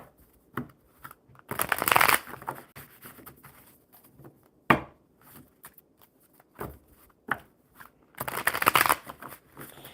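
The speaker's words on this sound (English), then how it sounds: "And now let's shuffle these up again for Sister Susan." Several bursts of papery riffling and soft slaps as cards are shuffled, a few longer flurries with quick taps between, close and moderately loud with no voices.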